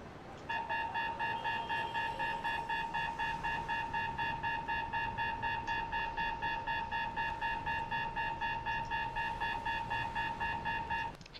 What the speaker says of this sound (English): Sound the alarm, boys.